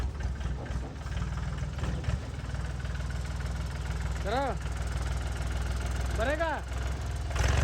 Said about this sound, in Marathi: ट्रॅक्टर आता तुम्हाला दिसेल कसं आहे.